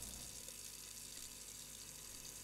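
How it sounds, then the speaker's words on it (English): A running water tap left on in a dark house in a horror video game, a steady faint hiss of flowing water that continues unbroken with no voices. "The water's been left running."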